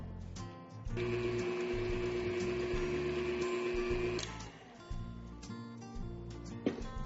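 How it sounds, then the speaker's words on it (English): Electric mixer whirring steadily at close range as it mashes cake ingredients in a bowl, starting abruptly, holding a constant hum for a few seconds, then stopping with a few clunks afterward. "I'm going to let the mixer just do all the mashing for me."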